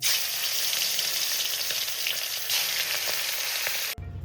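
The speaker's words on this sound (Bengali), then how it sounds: "তা মাছটাকে আমি প্রথমে ভেজে তুলে নিচ্ছি" Hilsa fish rubbed with salt and turmeric fries in hot oil, giving a dense, close, continuous sizzle with faint crackles that cuts off abruptly near the end, with no voices.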